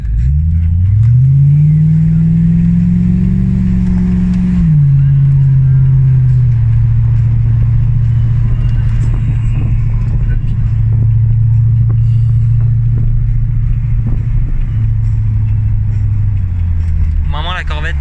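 A Corvette C4 drives with a steady, loud low engine drone that rises early on, then holds a constant throttle note at cruise, with people talking faintly over it and music briefly near the end.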